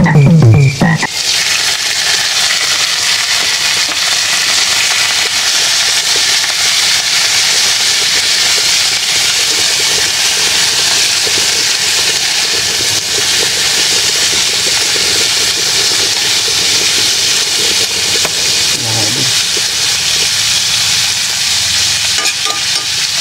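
Field frogs frying in a pan with garlic, onion and ginger give a steady, loud sizzle that runs throughout, with a brief clatter near the start and no talking.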